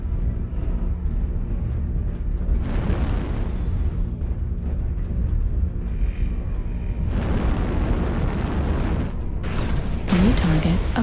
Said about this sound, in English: Airstrike online.